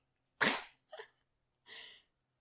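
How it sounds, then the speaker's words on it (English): A baby's small, soft sneeze followed by two fainter little breathy sounds, close by and quiet, with silence between them. "Baby sneezes"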